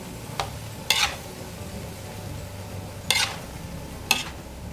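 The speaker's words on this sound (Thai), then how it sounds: "ลุกเคล้าผัดให้เข้ากัน" Vegetables for spring roll filling being stir-fried in a pan, a quiet low sizzle punctuated by four sharp scraping strokes of a utensil at irregular intervals, no voices.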